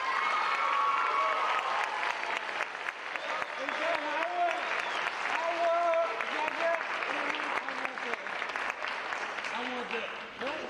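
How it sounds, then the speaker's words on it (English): Applause for a student at a middle school spring band concert, with sustained clapping from the audience and scattered voices and a few cheers mixed in. "So please, a round of applause for Emily Howard."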